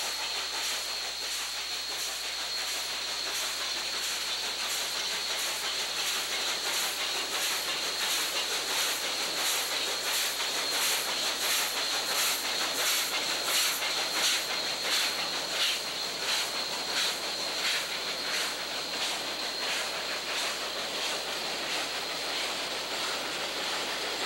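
A Mikado steam locomotive works up a mountain grade toward Cumbres summit, a steady loud hissing roar with a rapid pulsing exhaust beat running throughout, heard close without voices.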